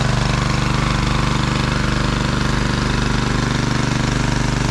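The heavy diesel engine of a water well drilling rig boring through rock runs loud and steady with a rapid pounding knock, continuous throughout with no pauses.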